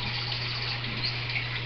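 Water runs steadily in an indoor cat-room drinking pond, a constant, even trickle with a low pump hum beneath, close and unbroken.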